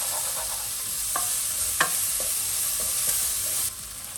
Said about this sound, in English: Here we are going to turn the heat to low to fry some red oil out of the chili paste.